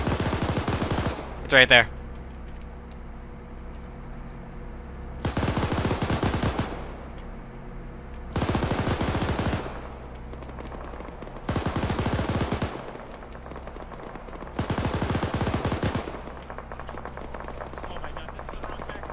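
Gunfire in ARMA 3 comes in five long bursts of automatic fire spaced a few seconds apart, loud and steady. A short voice is heard near the start and a low drone runs underneath.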